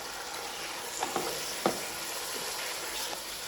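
Chopped tomato frying in a pan, a steady bright sizzle with a few soft stirring knocks and scrapes partway through, no voices.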